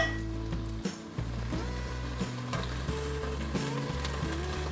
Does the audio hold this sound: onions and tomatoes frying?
yes